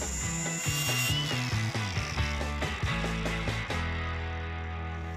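Power tool grinding on a bolt head on a 1975 AMC, a loud continuous mechanical whir with rapid ratcheting pulses that fades near the end, heard alone with no voices.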